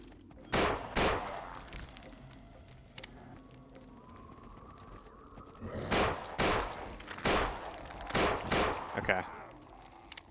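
Several loud gunshots ring out while runners are being shot in a zombie video game: a pair of shots early, one more after a quiet stretch, then a cluster of closely spaced shots later over low background noise.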